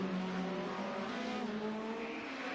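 Vintage BMW 2002 Works race cars roar past in a steady, sustained engine drone with a constant mid-distance wash of racing noise and no pauses.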